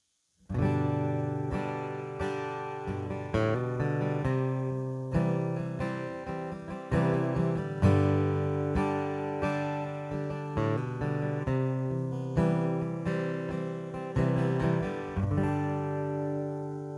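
Acoustic guitar played through a KOA preamp pedal, direct in with flat EQ, strummed chords ringing steadily and loud with clean sustained tone, alone without voices.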